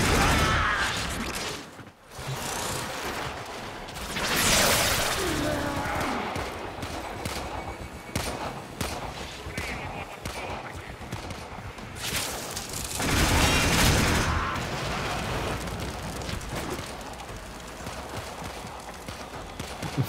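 Gunfire and explosive booms in the video game Warframe, a busy mix of shots and impacts with louder bursts around the middle and later, over steady game noise.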